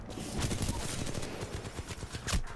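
Rapid hip-fire gunfire in the video game Titanfall, a dense stream of quick automatic shots in steady rhythm with a louder blast near the end, close and punchy.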